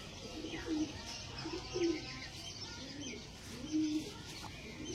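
Kalanka pigeons coo softly in a few repeated low phrases, fairly faint against a background of light chirps and room noise.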